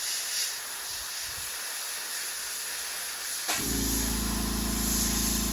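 An Iwata HPCS airbrush with a 0.35 mm nozzle, run at about 13 PSI and laying down yellow paint, gives a steady close airy hiss that grows fuller and louder about two-thirds of the way through, with no talking.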